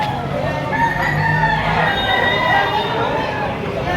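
Chickens for sale at a crowded market during stormy weather, roosters crowing and hens clucking amid a steady murmur of people talking nearby.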